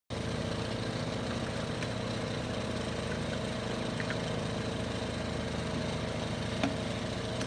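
A failing generator engine drones steadily and loudly at close range, with no break in its running hum.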